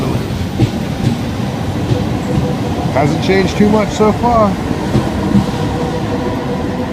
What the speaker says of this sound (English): Ah, it's my train.